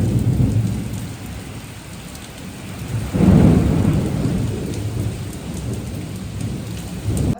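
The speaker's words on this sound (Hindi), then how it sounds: "खतरनाक तूफान है" Heavy rain pours steadily through a village thunderstorm, with a loud rumble of thunder swelling in about halfway and rolling on under the downpour; no one speaks.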